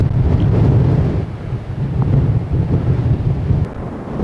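Loud, rumbling surf of the rising tide at Sand Point, England, a continuous low wash of sea waves heavily buffeted by wind noise on the microphone, with no voices.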